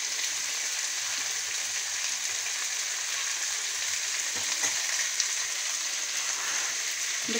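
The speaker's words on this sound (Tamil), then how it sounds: "ஒரு 2 நிமிஷம் இருக்கட்டும், வதங்கட்டும்." Brinjal and drumstick pieces sauté in a pan for traditional home-made sambar. A steady, close sizzle runs without a break, with faint stirring scrapes over it.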